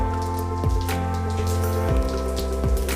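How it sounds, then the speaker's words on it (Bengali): Whole cumin seeds sizzling in hot oil left over from frying potatoes, making a steady, crackling, rain-like patter up close, with a constant tonal hum beneath and no talk. "এবার আমরা ফোড়ন হিসেবে এখানে গোটা জিরে দেব"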